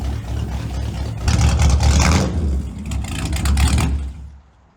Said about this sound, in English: Go and do some burnouts